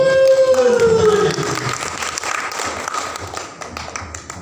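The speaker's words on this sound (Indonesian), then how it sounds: "Tepuk tangan dong." Applause from a crowd at a Nias traditional wedding ceremony, steady clapping that carries on for several seconds after a short tone fades at the start.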